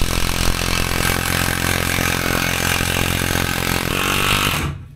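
A power driver drives large screws into camper fittings inside an expedition truck conversion, making a loud, continuous grinding whirr that runs steadily and then stops abruptly near the end.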